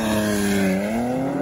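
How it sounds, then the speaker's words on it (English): Porsche Macan Turbo SUV (2020) at full-throttle launch-control start, turbos spooled on the brake: a loud, steady engine roar with a rising harmonic tone over about a second and a half, close and continuous. "hold the car down with a brake, press this little button in the middle, you get 20 seconds of the turbos being spooled up"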